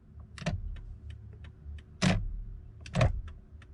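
A control knob in a Lexus CT200h is turned in short bursts, giving crisp ratcheting clicks in three clusters with scattered single ticks between, close up in a quiet car.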